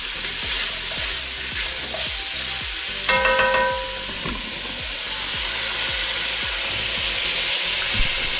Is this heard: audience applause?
no